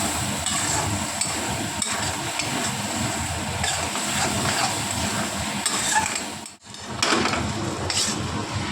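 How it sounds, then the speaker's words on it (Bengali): Mustard and chili paste fries in a pan with a steady, close sizzle and occasional stirring clatter, broken briefly by a short pause near the end. "এটাকে ভালো করে ভাজা ভাজা করে নেব।"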